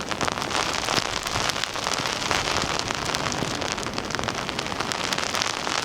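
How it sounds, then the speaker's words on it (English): Heavy rain pours down at Scarborough Beach, a loud, dense, continuous hiss and patter of drops close by with no talking. "And look at that rain."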